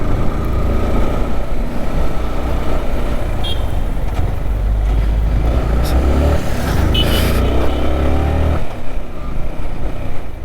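A motor vehicle engine on a winding mountain road near Kodaikanal, heard from a touring sports bike, with a loud steady roar and rumble that swells as the vehicle passes close by.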